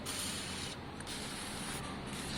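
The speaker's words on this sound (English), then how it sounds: "spray a bit of WD in there" A steady aerosol hiss of WD-40 sprayed into the carburettor of a Honda Deauville 650 motorcycle, continuous and close for a couple of seconds, with two faint breaks where the nozzle pauses.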